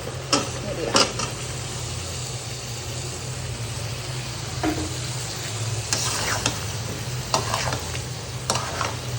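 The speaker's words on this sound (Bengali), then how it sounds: "এখন হচ্ছে ভেজে রাখা চিকেনগুলো সব দিয়ে দিব" Pre-fried chicken pieces tipped into a pan of sizzling, cooked-down masala, giving a steady close sizzle broken by several scraping stirs and clattering spoon knocks, with no talking.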